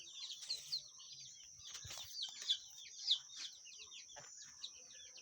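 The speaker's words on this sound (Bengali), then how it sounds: "এগুলো সব দেশি মুরগির বাচ্চা।" Native chicks on a small farm peep and cluck in a steady chorus of thin high chirps, with a few louder calls standing out, moderately close and with no talking.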